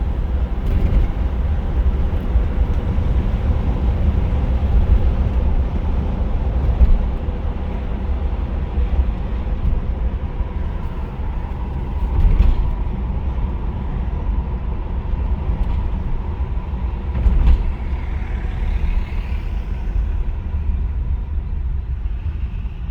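1980 Chevy Malibu in a virtual drive, a continuous low engine rumble heard steadily for a long stretch, with a few slight surges and no talking.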